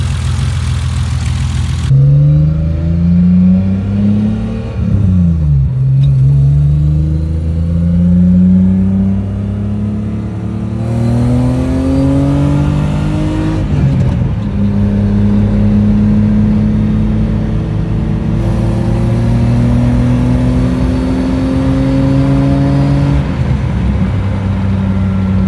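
BMW E34 535i with the M30 engine, running loud and close, revving up and down repeatedly over a steady idle across a long stretch, with gear-like whine in the rising tones.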